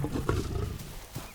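A full-grown male lion lets out a deep, rough roar close by, with loud guttural pulses that rise and fall over about a second with no voices.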